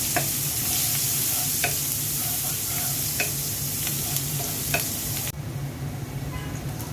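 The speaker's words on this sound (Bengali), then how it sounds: "মাছ ভাজা তেলের মধ্যে পেঁয়াজ দিয়ে দিচ্ছি।" Onions sizzle steadily in hot oil left from frying fish, with a loud continuous crackle and occasional clicks of stirring. Near the end the sizzle turns duller and quieter.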